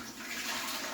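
Tap water runs in a steady, rushing stream as it fills a pressure canner, a continuous bright splashing that swells slightly and stays fairly close, with no talking.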